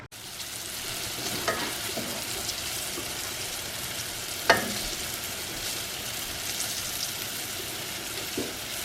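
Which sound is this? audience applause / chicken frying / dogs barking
chicken frying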